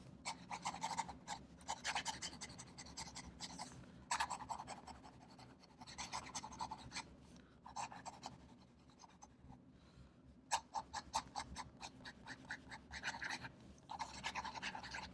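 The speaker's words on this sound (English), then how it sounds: "we can try some fast writing" Fast writing with a Waterman Edson fountain pen gives soft, close scratching nib strokes on paper in quick rhythmic bursts with brief pauses between lines.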